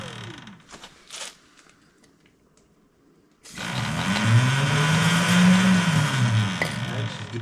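A Talaria/Surron electric dirt bike running louder after an upgrade, its rising whine and drivetrain hum swelling loud and steady after a few seconds of quieter handling noises.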